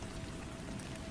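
Steady rain falls in a dense, even hiss with soft patter and a pouring, trickling quality, constant and moderately quiet with no voices.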